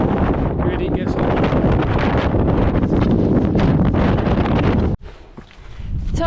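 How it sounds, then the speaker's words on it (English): Heavy wind buffets the microphone on an exposed fell summit near Steel Fell in the Lake District in April. A loud, continuous roar persists, then cuts out abruptly and returns more softly. "The wind's back, and yet again, in our faces."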